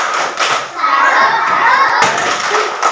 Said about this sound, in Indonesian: Mari kita tepuk salut dulu untuk sila yang kedua.